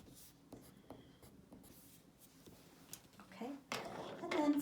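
Pencil scratching and shading on paper while drawing highlights and reflections on a polished concrete study, soft intermittent strokes close up, with light shuffling and a brief louder scrape near the end.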